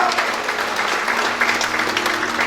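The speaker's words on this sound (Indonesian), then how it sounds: "tepuk tangan bagi Allah kita" Congregation applause at a church service, a steady dense wash of many hands clapping throughout, fairly loud and continuous with a faint tonal hum beneath.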